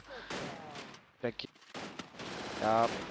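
Gunfire crackles in a Free Fire battle royale tournament match, several sharp bursts and a rapid volley at the end, overlapping with excited commentary from a voice.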